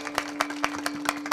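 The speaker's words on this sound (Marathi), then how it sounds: "ओमकार दादा करता टाळ्या वाजवा एकदा." Audience applause for Omkar dada at a Marathi devotional kirtan, a run of irregular sharp claps rising and falling over a steady sustained drone, moderately close.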